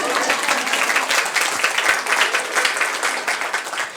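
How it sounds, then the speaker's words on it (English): An audience at a Saint Paul Public Library budget address breaks into steady, dense applause. The sustained clapping is loud and even, with no pauses, for the full span. "yes, please give her a round of applause."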